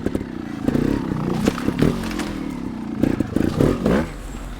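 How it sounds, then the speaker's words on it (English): A 2021 GAS GAS 300 TXT Racing trials motorcycle climbs steep terrain in short bursts of revving, its engine rising and falling with clattering and scraping in between. "Nice smooth engine."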